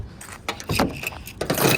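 Keys jangle in the trunk of a car, a few quick metallic clinks and rattles in close bursts, with no talking.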